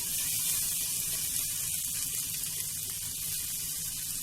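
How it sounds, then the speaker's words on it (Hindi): Water is sprinkled onto a hot dosa pan to cool it before a whole wheat flour dosa is made, giving a steady, fairly quiet hiss and sizzle throughout. "मैं इसमें अच्छे से पानी छिड़कूंगी पैन में"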